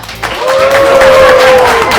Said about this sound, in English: Chefs, you have a cheering section for you today.